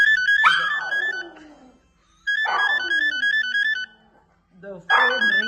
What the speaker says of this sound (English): The phone ringtone and Brownie is barking at it